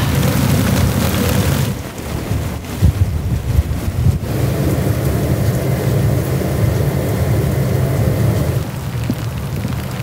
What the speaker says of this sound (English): Think this is too much rain for the camera?